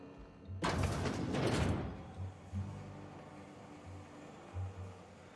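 A door closes in the video game The Outer Worlds with a sudden loud sliding clatter that lasts about a second, then fades into soft low thumps and quiet mechanical hum.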